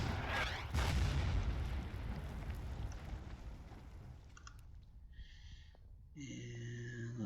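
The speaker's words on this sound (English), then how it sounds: "Lay down some fire on this bunker." Artillery fire pounds an enemy bunker in the WWII strategy game Order of Battle, Fall Weiss campaign: a loud opening blast with rumbling decay, then scattered thuds and short mechanical game effects toward the end, no talk.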